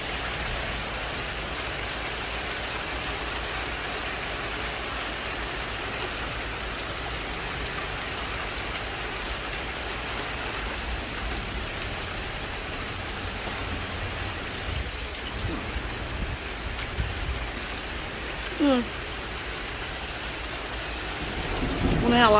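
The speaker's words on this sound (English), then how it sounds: "Raining pretty good." Heavy rain pouring on a garden, a steady broad wash of drops lasting over twenty seconds, with a faint voice and small knocks near the end.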